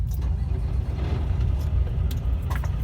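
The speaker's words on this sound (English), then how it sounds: "I'm going to start the truck up now." A 2018 International ProStar LT truck with an X15 diesel engine rumbles steadily at close range, a loud, even, low idle with faint clicks and rattles on top and no talking.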